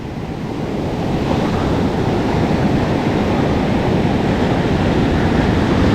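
Ocean surf on Rialto Beach in Olympic National Park, a loud, steady wash of breaking waves that swells up in the first second and then roars on continuously, with some wind.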